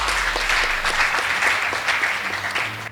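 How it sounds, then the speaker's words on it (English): A school debate audience applauds the Gatimu Secondary team with steady, close, continuous clapping that fills the whole moment and fades slightly at the end. "Please give them a round of applause."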